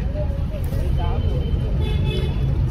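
Steady low road rumble and engine hum inside a moving car, continuous and fairly loud, with voices talking over it.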